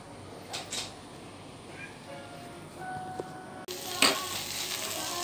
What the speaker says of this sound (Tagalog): Ngayon ay tutunawin na natin yung ating butter.